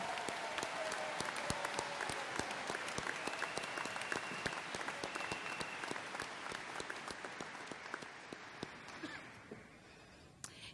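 A large audience at a UWSP spring university commencement ceremony applauds steadily: dense, continuous clapping that holds its level throughout before thinning slightly near the end.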